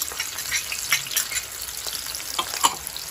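Chopped onion, tomato and a green chili frying and being stirred in a pan for Pindi chole, a continuous soft sizzle with scattered spatula scrapes and clicks, fairly close and steady with no talking.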